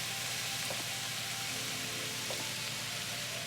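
Mushrooms sizzle in a pan over lowered heat as two tablespoons of flour are sprinkled over them, giving a steady, even hiss of frying at moderate level with a few faint taps and no talking.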